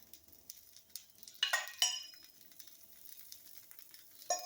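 Tomato dosa batter frying in generous oil on a pan, with a couple of brief sizzling bursts and light scraping, close but fairly quiet, with no talk.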